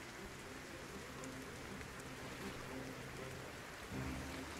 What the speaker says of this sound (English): while we have this rain, it looks like the rain's going to go for a little bit